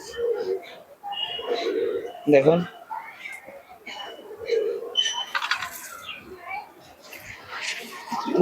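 Giribaz pigeons coo softly in low, repeated murmurs, mixed with close, quiet talking and some rustling.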